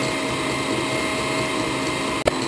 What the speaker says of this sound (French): Puis je rajoute le reste en continuant de fouetter.